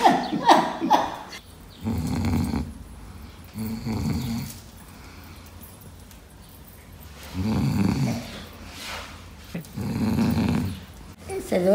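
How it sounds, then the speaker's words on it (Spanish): Heavy snoring repeats in slow rhythmic bursts, close and fairly loud, with rasping inhales and pauses between breaths, and voices heard briefly at the start. "Está roncando."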